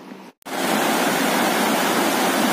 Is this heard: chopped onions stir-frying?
no